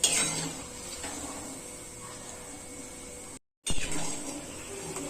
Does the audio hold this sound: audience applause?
no